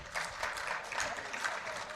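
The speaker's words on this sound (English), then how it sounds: "Another round of applause" An audience at a World Environment Day debate and symposium claps steadily, a moderately distant, sustained wash of applause with no talk over it.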